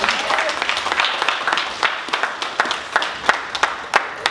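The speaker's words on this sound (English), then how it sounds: "so can we give another round of applause?" At a graduation party, a crowd gives a steady round of clapping that stays close and fairly loud for a few seconds before thinning into scattered, sharper individual claps.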